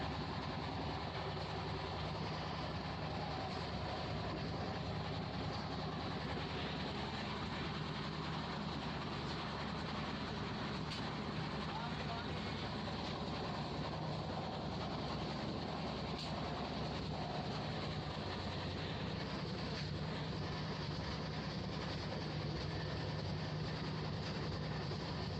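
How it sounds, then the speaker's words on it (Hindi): Okha–Nathdwara passenger train running at speed, a steady loud broadband rumble of wheels and carriage rattle that stays constant throughout, with no talking. "Train is running like anything."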